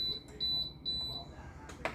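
A kitchen appliance timer, set while cooking vegetables for a sweet potato casserole, gives five or six short high electronic beeps in a quick, even row, close and clear over a low background hum.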